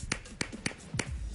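Four crisp hand claps land at a steady pace as part of a body-percussion routine in a primary school lesson, close and clear with quiet gaps between them.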